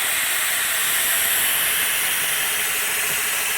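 Compressed air escapes through the valve of a Graco heavy-duty drum ram pump with a Monarch pump, a loud steady hiss that runs without break and without talk.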